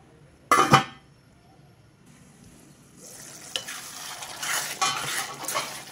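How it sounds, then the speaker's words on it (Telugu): A pot of tamarind stew simmers with a covered lid, giving a low, steady bubbling hiss; a sharp clink of utensils sounds near the start, and the bubbling grows louder and busier toward the end. "పులుసు చక్కగా మరుగుతుంది"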